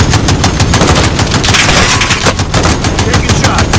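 Loud, rapid automatic gunfire in Call of Duty Modern Warfare Warzone: a fast unbroken string of close shots, so steady it nearly blurs into one continuous roar.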